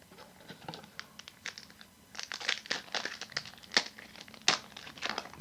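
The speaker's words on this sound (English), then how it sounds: "Some of these packs are just absolutely shredding open, not the easiest to open in the slightest." Crimson Invasion Pokémon card booster packs are ripped open by hand, a run of crinkling foil and sharp tearing bursts, quiet at first and then louder and busier, close to the listener.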